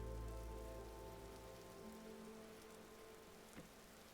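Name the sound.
rain in the video game Vintage Story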